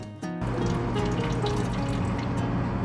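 Motor oil drains from a removed oil filter on an old beater car, a steady loud stream of liquid running nonstop after a brief start, close by.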